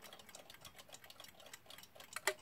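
Steady mechanical ticking of a new old stock Westclox Goodmorning alarm clock, then a single sharper click of the alarm mechanism near the end, close and fairly quiet.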